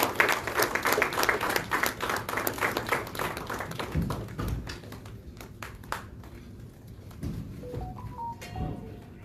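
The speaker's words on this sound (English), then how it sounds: "let's have a round of applause as they come to the dais" Audience applause at a formal inauguration as guests walk to the dais, brisk clapping that tapers off after a few seconds, then scattered taps and a brief electronic tone.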